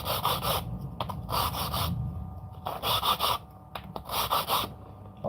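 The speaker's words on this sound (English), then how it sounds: "like sanding them off, that's so much nicer" Rhythmic rasping strokes of sandpaper rubbing rough edges, several bursts of brisk back-and-forth scraping close by with short pauses between.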